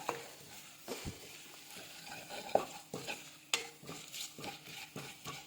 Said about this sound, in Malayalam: ഇനി നമുക്ക് മുളക് പൊടി നന്നായിട്ടൊന്ന് മൂപ്പിച്ചെടുക്കാവേ.